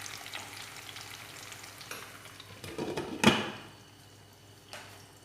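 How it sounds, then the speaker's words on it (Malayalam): Jackfruit sizzling in a pan while being stirred for chakka vilayichathu, with a steady frying hiss, one loud scraping stir stroke midway, and a softer knock near the end, no talk. "ഒന്ന് ഇളക്കിയിട്ട് ഒരു 2-3 മിനിറ്റ് നേരം വേവിക്കണം"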